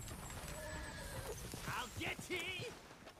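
A horse in a video game neighs and whinnies over the clip-clop of its hooves, with a voice talking underneath.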